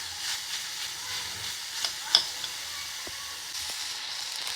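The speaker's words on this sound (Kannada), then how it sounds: "ಇವಾಗ ಈ ಥರ ಟೊಮೆಟೊ ಅದನ್ನೆಲ್ಲ ಚೆನ್ನಾಗಿ ಎಣ್ಣೆಯಲ್ಲಿ ಹುರಿದ್ರೆ" Tomato and onion fry in oil with a soft, continuous sizzle, broken by a few light scrapes and taps of a spoon stirring the pan.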